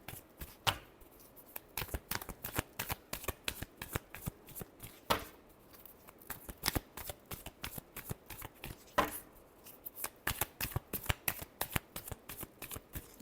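A deck of tarot cards is riffled and shuffled again and again in close, crisp bursts of papery flutter and snapping, with brief pauses between rounds and no voice over it.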